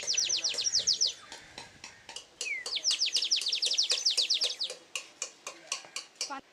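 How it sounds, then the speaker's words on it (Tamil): Water-filled clay bird whistle toys warbling in rapid trilling bursts, with quick chirps and tick-like clicks between them, close and fairly loud. "தண்ணீர் ஊற்றி நிரப்பினால் பல பறவைகளின் ஒலியை எழுப்பும் மண்குருவி பொம்மைகளின்"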